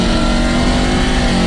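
A supercharged Ford F150 truck engine revs hard, producing a loud, sustained growl that holds steady for about a second and a half before cutting off abruptly.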